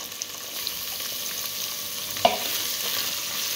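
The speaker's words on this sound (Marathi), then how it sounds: "कांदा आपल्याला गोल्डन ब्राउन होईस्तोवर परतवून घ्यायचा आहे" Finely chopped onion sautéing in a pan for dal khichdi, a quiet steady sizzle with a few light stirring clicks and one sharper clack, close and without voices.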